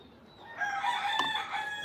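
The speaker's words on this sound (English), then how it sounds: "there's the rooster saying good morning to us all." One full rooster crow close by, building up from a quiet start into a strained, drawn-out call that holds until the end.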